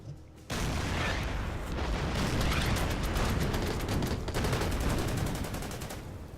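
Naval and coastal guns fire in the Order of Battle Pacific strategy game, giving a dense continuous fusillade of rapid cracks and rumbling booms that starts abruptly after a brief quiet moment and stays loud throughout.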